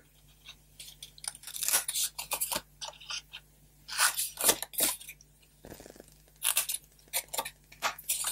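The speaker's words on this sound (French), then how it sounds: "En même temps, j'ai pas les bons ciseaux, les grands pour découper là." Scissors cutting paper for a homemade Polar Express advent calendar, heard as bursts of close, crisp snipping and rustling with short pauses between cuts, and no voices.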